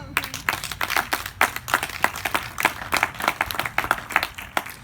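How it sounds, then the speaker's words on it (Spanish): A church congregation claps during a sermon, with scattered, uneven bursts of hands rising and falling in irregular pulses rather than a full steady ovation. "Denle un aplauso a Cristo"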